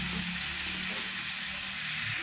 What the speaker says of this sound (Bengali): প্রায় একটু 10 মিনিট মতো ভালো করে ভেজে নেব।